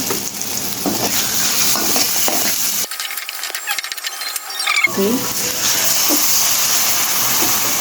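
Chili powder and ginger paste sizzle in a hot spice masala for a poya fish curry, steady frying hiss with stirring scrapes; the low end drops out briefly midway while the bright sizzle carries on.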